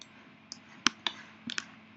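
A computer mouse clicks while 3D modeling in UV editing software, a few sharp, close, isolated clicks spaced irregularly over a quiet room.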